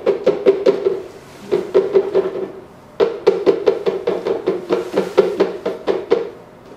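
Dry roasted edamame poured into a container, a fast run of hard rattling clicks in several bursts with brief pauses, close and alone.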